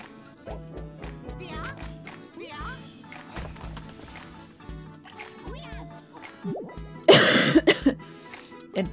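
A person lets out a loud burst of coughing near the end, over steady background music from the LocoRoco video game.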